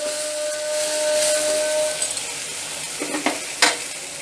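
Hariyali chicken masala sautés in a hot pan with a steady, close sizzle and hiss, and a few scraping stirs of a spoon toward the end.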